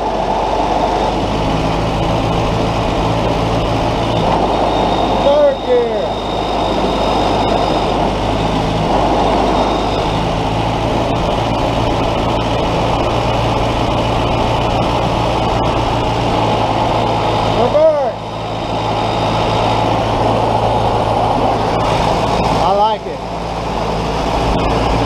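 Willys CJ2a flat fender jeep engine running steadily in second gear, a loud continuous low drone with a few brief shifts in pitch.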